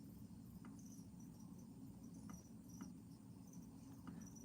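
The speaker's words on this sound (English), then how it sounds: "I can hear the crickets." Crickets chirp in faint, sparse pulses over a steady low hum of background noise, with no voices.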